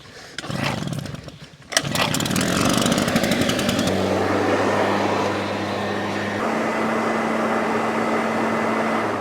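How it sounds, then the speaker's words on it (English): A Husky backpack leaf blower roars loud and close during yard work, starting with a sputtering pull and revving up before settling into a steady, sustained engine drone with a clear hum. "let's grab the Husky backpack blower and finish it all off"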